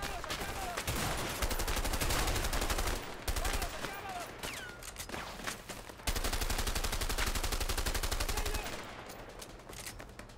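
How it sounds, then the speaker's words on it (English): Sustained gunshots and rapid automatic fire in the video game A Way Out, dense rattling bursts nearly nonstop, loud and close, with brief pauses and a voice faintly underneath. "Am I shooting pellet gun bullets?"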